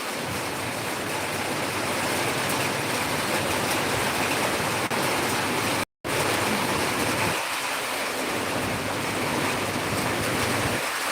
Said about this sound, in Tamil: சென்னையில் மழை வருது பார்த்துக்கோங்க